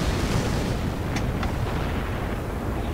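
Explosion in the Rogue Trooper video game: a dense, loud, sustained rumbling roar of blast debris with a couple of sharp crackles, filling the whole stretch without pause.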